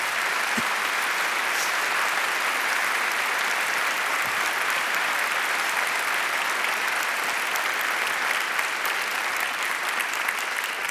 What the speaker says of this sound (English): how about a really big round of applause for them?